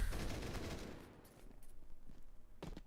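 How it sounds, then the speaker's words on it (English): Sustained automatic gunfire in the Counter-Strike video game sprays through a smoke grenade, a dense rapid burst for about a second, then scattered faint shots and footsteps before a brief louder burst at the end, with no talk over it. "Why are you spraying the smoke?"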